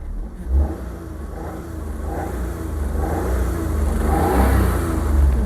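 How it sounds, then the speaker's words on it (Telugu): The engine of a 2015 Maruti Suzuki Alto with 67,000 km revs up, a steady, close, mid-pitched drone that rises gradually in loudness and pitch with slight swells, and no talk over it. "ఒకసారి ఇంజిన్ స్టార్ట్ చేసి చూపిస్తాను"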